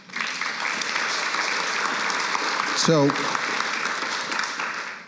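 A large audience applauds steadily for several seconds during a university conversation event, with a brief spoken word from the stage partway through.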